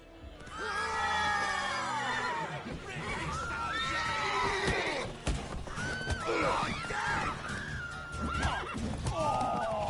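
Horses neigh and whinny in The Witcher 3 video game, several shrill, wavering calls, close and fairly loud, with hoof clops and scuffling underneath and a brief drop in the middle.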